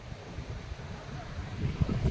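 Sea waves at the Bay of Bengal beach in Mandarmani, a continuous low rushing wash of surf with wind noise, swelling louder toward the end as a wave breaks nearby.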